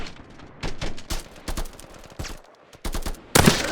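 Gunfire from the VR shooter game Contractors: a rapid string of loud, sharp shots in short bursts and single cracks, with brief gaps between volleys and a heavier blast near the end, no talking.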